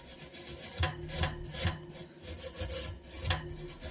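A scrubbing pad rubs baked-on grime inside an oven in rhythmic back-and-forth strokes, a loud, close rasp repeated about six times with no talking.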